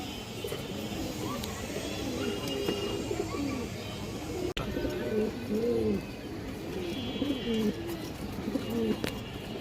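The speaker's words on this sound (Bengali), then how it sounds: "এখানে 6 পিস বাচ্চা কবুতর আছে" Several young pigeons coo in repeated soft, throaty bursts, close by and fairly loud over low background noise, with a brief sharp click midway.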